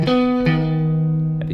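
An electric guitar plays the opening phrase of a song's intro: a few sustained, slightly overdriven notes bending and sliding into one another, ringing clearly and close with no talk over them.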